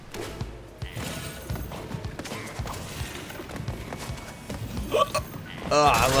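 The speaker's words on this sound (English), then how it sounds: "Oh, I love hiccups." Hiccup sound effects from the video game Crash Bandicoot 4 pop up among thumping game noises and music, with a quick string of hiccups near the end and a voice talking over the gameplay.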